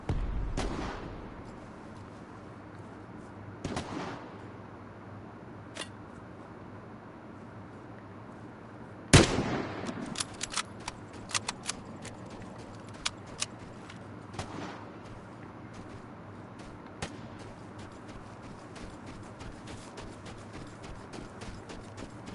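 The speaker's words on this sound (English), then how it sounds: "there's someone by the house that's shooting too" Gunfire from the video game Vigor, with someone shooting near a house: scattered sharp shots at varying distances, one loud crack standing out mid-way, then a rapid cluster of quick shots over a low ambient background.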